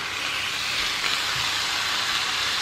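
Bacon sizzles steadily in a frying pan, a constant close crackle and hiss with no talking.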